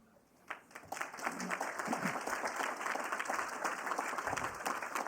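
Applause for challenge winners at a closing plenary breaks out after a quiet start: scattered claps quickly build into steady, moderately loud crowd clapping, with a few voices faintly beneath.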